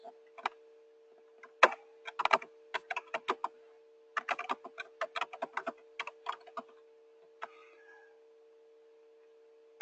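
Computer keyboard typing in short irregular bursts of quick, close key clicks separated by pauses, over a faint steady hum.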